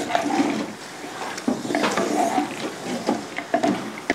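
Beef stirred and roasted with spices in a clay pot: scraping, sizzling stirs with periodic clanks of the spoon against the pot, fairly close and steady, no one speaking.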